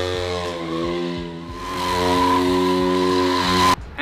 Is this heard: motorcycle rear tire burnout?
yes